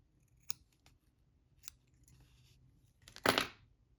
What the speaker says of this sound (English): I am going to cut some off the hide